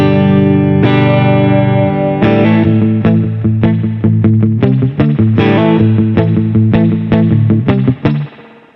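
An electric guitar with overdrive from an M drive pedal, plus reverb, strums chords and then picks a rhythmic surf-style sequence of notes, gritty, driven, loud and reverberant.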